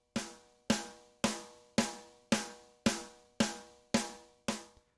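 A lone snare drum sample struck nine times at an even pace, each hit a sharp bright crack with a short roomy decay, fairly quiet and isolated with no voices.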